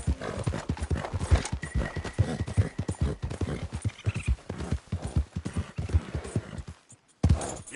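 A horse trotting, a fast, even clip-clop of hooves close by, loud and continuous, with a brief neigh partway through and a short pause near the end.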